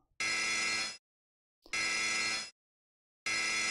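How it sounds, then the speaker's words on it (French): An alarm in the video game Silent Hill 2 Enhanced Edition sounds three times in harsh, even buzzing bursts of about a second each, separated by clean silent gaps, loud and alone. "Petite alarme là."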